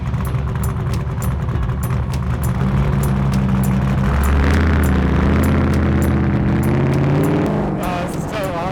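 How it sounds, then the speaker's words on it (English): An 850-horsepower trophy truck engine is given gas during high-speed desert off-roading in the Mojave. A loud, close engine roar climbs in pitch partway through and then holds steady. "So go ahead and push the button and give it a little bit of gas."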